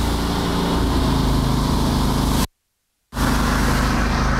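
A Blanchat Patriot dual pump system runs with one pump going, giving a steady, loud mechanical drone with a constant hum. It stops suddenly into silence for under a second, then starts again at the same level.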